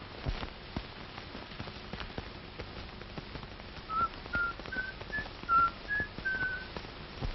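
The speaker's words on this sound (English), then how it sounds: "Listen, somebody's whistling Yankee Doodle." Faint, thin whistling of Yankee Doodle, a short, bouncy tune over soft background noise, the notes coming in a quick melodic run near the end.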